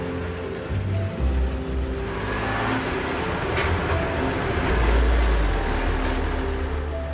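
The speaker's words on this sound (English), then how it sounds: "there's still 35 miles of rough roads left that we'll take in this awesome rainbow truck" A rainbow-painted passenger truck crowded with riders rumbles over rough roads in Madagascar, a steady close engine drone with jolting low thumps and rushing wind noise throughout, no talk.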